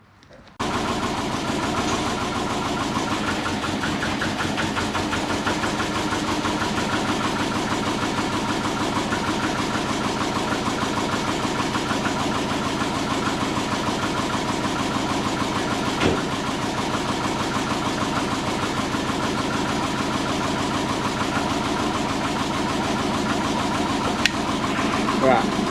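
A big-turbo Subaru engine with an exhaust fault idles steadily and loudly up close for the whole stretch, a constant rumbling drone with no break.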